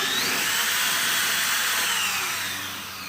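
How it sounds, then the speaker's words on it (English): Steady whine of a power drill boring holes in wood for a wine glass holder, continuous and close, tapering slightly near the end. "I'm going to drill all of these holes"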